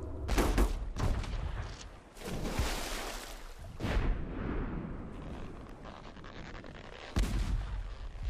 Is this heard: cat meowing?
no